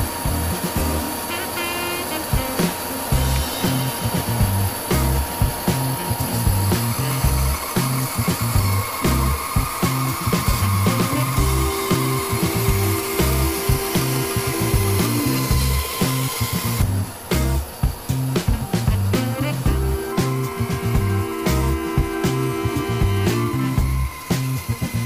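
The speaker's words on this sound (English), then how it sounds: "I'm going to go through and resaw a few more veneers off of this block right here" A Laguna 1412 bandsaw resaws thin wood veneers from a block, its blade running in a loud, continuous buzzing whine with steady cutting noise and a shift in tone partway through, alone without voices.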